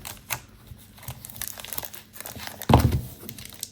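Plastic shrink film being peeled and crinkled off a manga volume, soft rustles and crackles close by, then a louder crunchy tear near the end.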